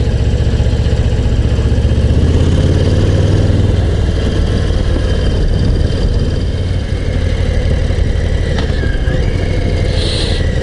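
The V-twin engine of a Harley-Davidson Low Rider ST motorcycle runs steadily at low revs, a loud, close, continuous rumble that holds throughout with little change in pitch.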